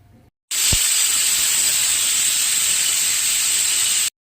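A pressure cooker boiling soup lets out one long, loud, steady steam whistle that holds for about three and a half seconds, then cuts off abruptly, with no talking.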